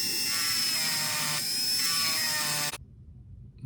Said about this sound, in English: I'm going to use that to grind it off.